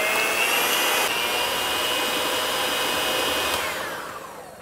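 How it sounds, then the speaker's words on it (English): Electric mixer whirring steadily as it beats egg whites toward soft peaks for a lemon icebox pie, a continuous high motor whine close by that drops in pitch and fades near the end. "we're going to beat these with an electric mixer, and we're going to beat until soft peaks form"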